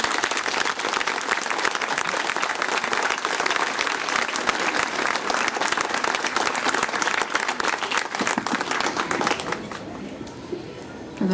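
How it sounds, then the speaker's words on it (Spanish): Loud, dense audience applause at an outdoor huapango arribeño music festival in the Sierra Gorda, a continuous roar of many hands clapping for about ten seconds before tapering off near the end. "Les pido un aplauso para todos ellos."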